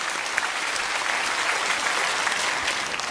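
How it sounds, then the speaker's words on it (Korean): Church congregation applauding during a special dawn revival service, a steady dense wash of many hands clapping together at moderate volume, continuous for the full span with no talk over it. "한 번 더 박수로 뭐 그냥 축복해 주시면 좋겠습니다"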